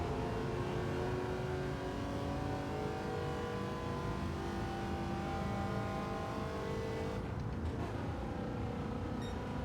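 Wicked Fabrication GT 51 race car in Gran Turismo 7, held in 4th gear climbing a hill at Grand Valley South: a steady, loud, sustained engine drone with layered harmonics, briefly shifting near the end.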